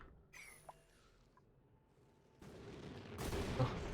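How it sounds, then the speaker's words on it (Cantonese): Meteors strike the surface in the video game Oxygen Not Included, giving muffled booms that swell into a loud, rumbling, broadband blast near the end, after a stretch of quiet game sounds. "聽到上面爆炸"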